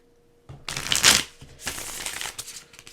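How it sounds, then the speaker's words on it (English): A deck of tarot cards is shuffled by hand, with a quick papery riffle and soft slapping bursts, close and alone without talk. "Gonna do a couple shuffles, and then we will pull 3 more cards as well as the sun."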